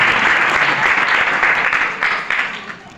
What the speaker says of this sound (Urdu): تو ہم زوردار تالیاں کمیٹی کے لیے